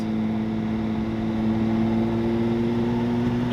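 A line of race cars runs with a steady, droning engine hum, several low tones held evenly throughout at moderate loudness, with no one talking.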